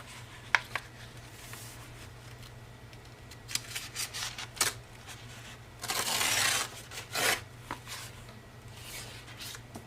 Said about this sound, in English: I'm going to just tear out some of these pages